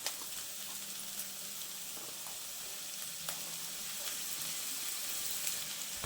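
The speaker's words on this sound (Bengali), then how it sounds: "বরবটিটা কিছুক্ষণ ভেজে নেওয়ার পর আমি দিয়ে দিচ্ছি আলু কুচি আর গাজর কুচি।" Chopped potato, carrot and yardlong bean pieces frying in a pan, a steady soft sizzle with faint scattered crackles throughout, fairly quiet and alone.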